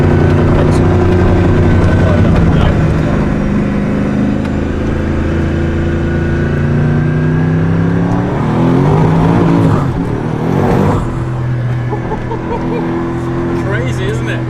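Apollo S supercar engine, a loud, close, sustained droning roar with a surge and rev swell partway through, a pass-by rush, and then a steady engine hum, with someone talking over it.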